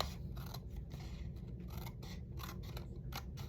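Scissors cutting paper to size for an altered envelope mini notebook, a continuous run of quiet, close snips and crisp paper scraping with no voices.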